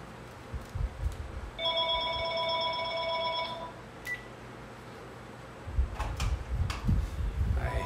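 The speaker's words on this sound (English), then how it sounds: "I hate it when I get a phone call in the middle of this thing." An incoming call on a phone rings with a steady electronic tone lasting about two seconds, followed by a brief beep. Low rumbling handling noise comes before and after, and no one speaks.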